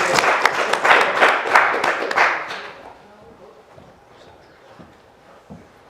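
An audience at a live music show claps loudly for about two and a half seconds, then the applause fades into quiet room noise with faint murmurs.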